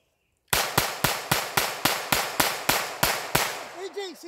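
Rapid shots from a Taurus TX22 pistol, about twelve sharp evenly spaced cracks in quick succession, close and loud, followed by a brief murmur of voices.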